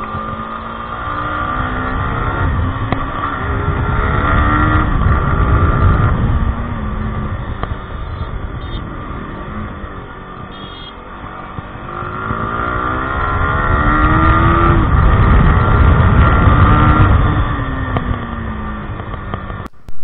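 A Yamaha R15 V4 with its 155cc single-cylinder liquid-cooled engine drones steadily while being ridden, the note rising and falling as the bike accelerates and eases off, loud and close throughout with no talking.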